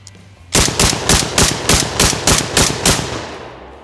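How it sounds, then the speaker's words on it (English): An ATI Bulldog shotgun firing Federal game load shells at a range, about ten loud, evenly spaced blasts in quick succession with no talking. "Federal game load, 1290 FPS. And for the heck of it, let's just do 10 shots."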